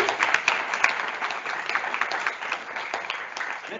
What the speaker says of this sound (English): So let's give it a applause.